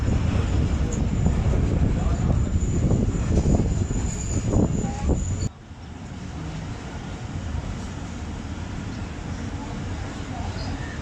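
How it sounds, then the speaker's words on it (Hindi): The Jaffar Express pulls out of Chichawatni railway station, built in 1865, with a loud, continuous rumble and clatter that shifts abruptly midway to a lower, steadier roll. "चीचावतनी रेलवे स्टेशन से ट्रेन रवाना हो रही है"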